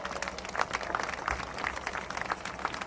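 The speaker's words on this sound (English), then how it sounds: "let's have a big applause" Crowd applause at an outdoor Bahrain solidarity rally in Chicago, a scattered, moderate patter of clapping hands that stays steady for a few seconds without voices.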